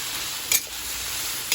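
Vegetables and tomatoes for pinakbet sauté in a hot pan with a steady, close sizzle, broken by two brief scraping stirs.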